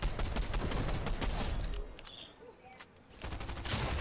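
Rapid bursts of gunfire in the video game Fortnite, dense and loud for the first two seconds, dipping briefly, then resuming near the end.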